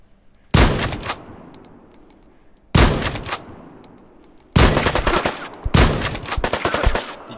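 Four loud, separate bursts of gunfire from a shotgun in the survival shooter Deadside, spaced a couple of seconds apart, each a sharp blast that tails off into a fading echo before the next.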